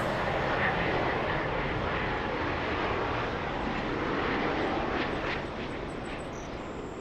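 A jet airliner lands on the runway at Toronto Pearson airport, its broad engine roar loud and steady at first, then slowly easing off as it rolls away, with no talk.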